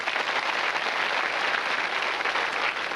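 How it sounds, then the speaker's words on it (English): Studio audience of a TV quiz show applauds and cheers the contestants, a continuous, even wash of clapping and cheering throughout the short stretch with no speech. "Let's give them a big cheer"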